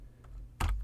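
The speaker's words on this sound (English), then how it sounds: "So I type minus 65," A few keystrokes on a computer keyboard while entering a value into drawing software, a faint tap followed by a sharper, louder press, close and alone.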